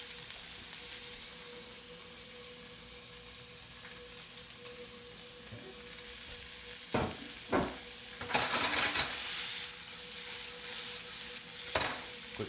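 Chicken alfredo with cream and Parmesan cheese sautés in a pan with a low, steady sizzle, broken by a few scattered utensil scrapes and clinks later on, fairly quiet and close, with no voices.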